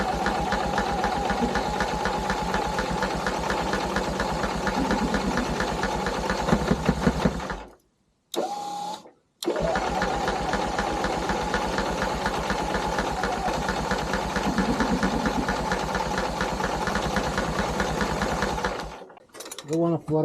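Caterpillar D2 5J dozer pony engine with a Zenith TU-4C carburetor cranking and trying to start: a steady, loud mechanical chugging that cuts out briefly twice near the middle, then resumes and stops near the end.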